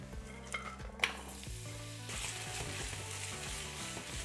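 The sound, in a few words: celery stir frying in hot oil with black peppercorn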